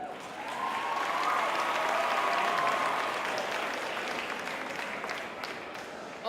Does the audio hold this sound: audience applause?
yes